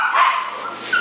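Dogs in a cramped puppy mill kennel whimper and yip in high, wavering whines, close and fairly loud, with no talking over them.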